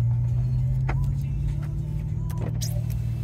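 A 2008 Audi RS4 with aftermarket exhaust and intake idles with a deep, steady rumble close by, while faint voices and small clicks come and go on top.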